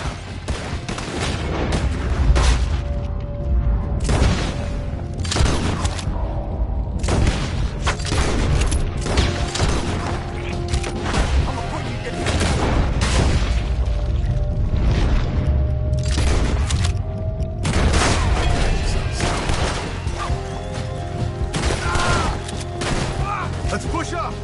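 Sustained gunfire from a shootout in Red Dead Redemption 2, dense bursts of shots and booming impacts crackling almost continuously, loud and close, with voices calling out now and then amid the fighting.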